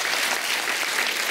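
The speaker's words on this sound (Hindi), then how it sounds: "तो जोरदार तालियां हो जाए आज।" Loud, dense applause from a studio audience on a TV comedy show, a continuous even wash of clapping.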